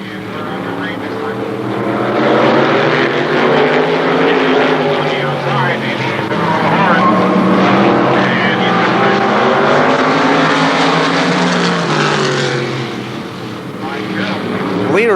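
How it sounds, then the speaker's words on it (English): Race cars throttle up together out of turn four as the green flag flies at Shadybowl Speedway, a loud, sustained engine roar rising and swelling across the field while a commentator talks over it. "They pick up the throttle, the green flag flies,"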